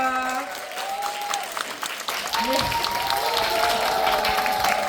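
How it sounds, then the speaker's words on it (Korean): Warm applause from an audience at a film screening Q&A for The Killers as the actors and director are welcomed onstage, steady clapping with faint background voices and a few tonal sounds layered over it. "여러분 뜨거운 박수로 맞아주세요"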